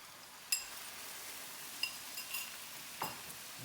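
Farfel stirred with broth in a fry pan over high heat: a soft sizzle runs throughout, broken by a few light metallic clinks of a utensil against the pan, close and quiet.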